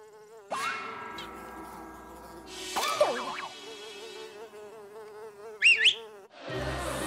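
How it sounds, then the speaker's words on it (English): Cartoon mosquitoes buzzing in a swamp scene, a thin whining hum that rises and falls across several seconds with a sharper buzzing swoop near the end. "That'll keep the mosquitoes away, Henry."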